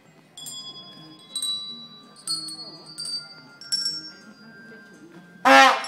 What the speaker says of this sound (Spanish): Vamos a ver cómo suena la campanilla.